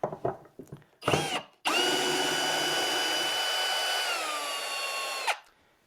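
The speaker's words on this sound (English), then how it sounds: "There's no reason why you can't drive all kinds of screws in and out with a cordless drill." A cordless drill backs screws out in short bursts, then whirs steadily for about four seconds before winding down; close and loud, with no talking.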